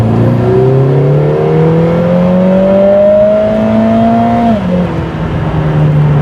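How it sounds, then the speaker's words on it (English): A Lotus Emira i4 Turbo fitted with a Milltek aftermarket exhaust accelerates hard, its loud turbo four-cylinder note rising steadily in pitch for several seconds before a brief drop as the throttle lifts, then settling into a steady drone. "If I step on it, wow, that sounds quite exciting and it's much louder than the stock exhaust."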